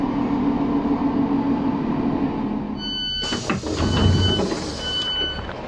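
A train on the line to Ashton-under-Lyne rumbles steadily, then its door chimes sound and doors slide as it stops, close and loud, with no talk.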